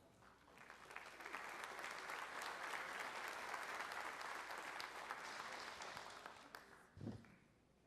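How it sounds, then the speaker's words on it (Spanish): Sustained applause from a conference audience at a Costa Rican technology talk greets a vice-minister, a broad steady clapping that swells quickly and holds for several seconds before tapering off, fairly distant and alone without speech. "Recibámoslo con un aplauso"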